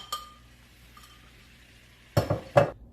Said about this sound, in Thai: น้ำมันก็เดือดแล้วนะคะ เราก็เอาเครื่องแกงที่โขลกตะกี้นี้ลงผัดค่ะ